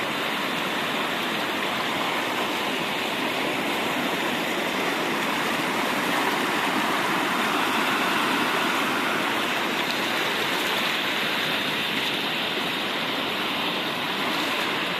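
A continuous, powerful rush of water from an overflowing reservoir roars steadily without pause, like a spillway pouring over, with no voices.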